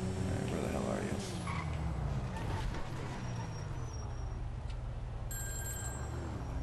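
A phone rings in GTA V, its warbling electronic tone sounding over steady game ambience and traffic-like rumble.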